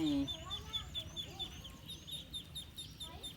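Ducks quack and chatter faintly at a distance on a rural homestead, accompanied by high, repeated bird peeps and light background noise.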